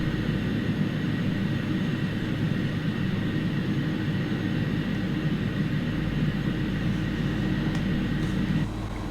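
An Airbus A300-600R airliner taxis to the stand in the X-Plane 11 flight simulator, giving a steady, continuous low engine drone with a constant broadband hum throughout, slightly quieter near the end; no talking.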